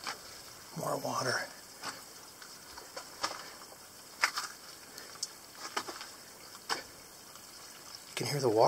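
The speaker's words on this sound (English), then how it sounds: "You can hear the water flowing through the pipe." Water flows through a pipe with a faint, uneven trickle, broken by scattered drips and soft splashes, and a voice is briefly heard at the start and end.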